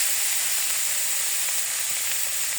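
Home-grown greens with beans and gourd leaves cooking in a pan, giving a steady, even sizzling hiss that runs unbroken throughout.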